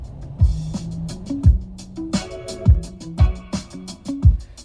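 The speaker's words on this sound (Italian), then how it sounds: "Sentite che bassi super potenti." Car stereo in a Jeep plays music with heavy, punchy bass, deep thumping hits repeating in a steady rhythm with melodic tones above, loud and close inside the cabin.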